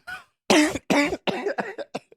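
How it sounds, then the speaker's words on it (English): A person coughs several times in a row, close and loud, starting with a short cough and followed by a cluster of harsh coughs that trail into smaller throat-clearing bursts. "coughing during my plug."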